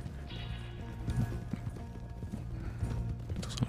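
Horses clip-clop at the stables in Red Dead Redemption II, steady hoof beats close by with an occasional soft snort, under a low game ambience and no talk.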